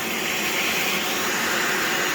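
A Dyson DC65 vacuum cleaner runs steadily at close range, a loud, even motor roar with broad airflow noise and no voices.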